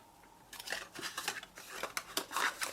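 Scissors snip repeatedly through card while cutting a piece for a votive candle box, a quick series of close, crisp cuts with short pauses between them.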